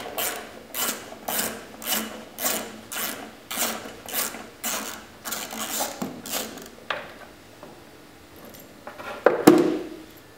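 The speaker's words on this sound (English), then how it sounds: "Firstly, we will remove the chain cover. This requires a 13mm socket." A 13mm socket wrench is being used to remove the chain cover of a Tow and Collect Pro 1500, giving about ten rhythmic ratcheting strokes up close, followed by quieter clicks and a short metallic clatter.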